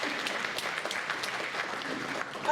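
A church congregation claps for Jesus during a Portuguese-language morning service, brisk continuous applause filling the room with no voices over it.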